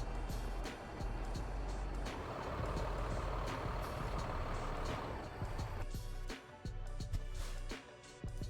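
A heavy truck towing double trailers in a driving-academy video game: a low diesel rumble, steady reversing beeps and short air-brake hisses while it backs slowly into a parking spot.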